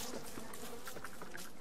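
Bees in the survival video game Don't Starve give off a steady insect buzz that drones on throughout at moderate level, with no talk over it.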